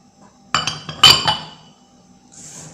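A metal spoon scoops coffee and starch from containers, making a few sharp close clinks in quick succession, the loudest in the middle, followed by a faint rustle.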